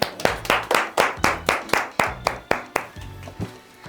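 An audience at a lecture with schoolchildren claps in steady unison, roughly fifteen sharp, evenly spaced claps over a few seconds, fading slightly at the end.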